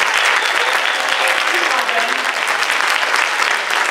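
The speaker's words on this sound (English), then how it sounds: "I just want to give Corey an extra round of applause" An improv comedy show audience gives a dense, sustained round of applause for a performer, loud and continuous with some voices mixed in.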